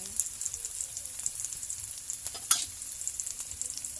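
Onions and garlic sautéing in a pan sizzle softly and steadily, with occasional light stirring clicks and a sharper tap or scrape partway through, close up with no talking.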